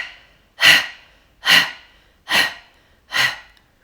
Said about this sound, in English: Inhale in. Exhale out. And then inhale in again.